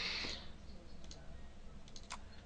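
Two quick computer mouse clicks during a software installation on a PC, brief sharp ticks heard close and alone over a faint room hum.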